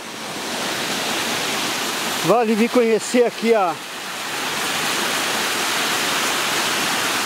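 A hidden waterfall in Jacutinga pours with a steady, broad rushing roar from start to finish, while a person speaks briefly in the middle.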